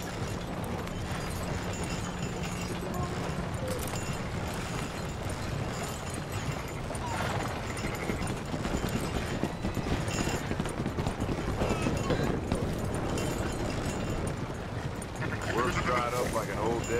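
Stagecoach horses trotting along a trail in the Red Dead Redemption 2 video game, with a steady hoof clip-clop running through a dense bed of wagon rumble and ambient sound, and a voice talking over it.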